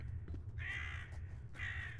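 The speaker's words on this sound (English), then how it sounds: "Oh, crows, go away." Two harsh caws from crows in INFRA ring out about a second apart, fairly close, over a constant low rumbling background hum.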